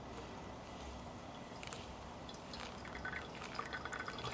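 Water poured in a thin stream for a pour-over, faint and quiet, with a soft steady trickle and small drips and clinks toward the end.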